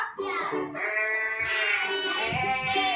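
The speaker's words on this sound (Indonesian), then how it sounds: "Kalau ini domba adalah sheep" Sheep bleats ring out loud and close, wavering nasal cries that overlap and stretch over a few seconds, with a brief dip before rising again.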